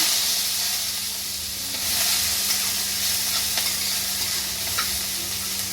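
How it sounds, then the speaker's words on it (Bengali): Asafoetida and chopped onion fry in hot oil in a kadai, giving a steady, close, broadband sizzling hiss with a few faint clicks of stirring, continuous and without speech. "এইবার একটুখানি হিং ফোড়ন দেব আর তারপরেই দিয়ে দেবো হচ্ছিল পেঁয়াজ কুচি"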